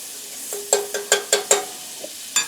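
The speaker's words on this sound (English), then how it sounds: "Now in the pan, I'm going to put some butter. I got my pan nice and hot," Butter in a hot pan for a French-toast-style egg-in-bread breakfast, a series of short, sharp sizzling bursts and clatters, about six close hits spaced unevenly, with quiet gaps between.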